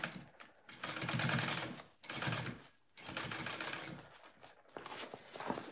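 A sewing machine stitching a seam through several layers of fabric for a Camille bag, running in steady whirring bursts with short pauses between them, heard close up.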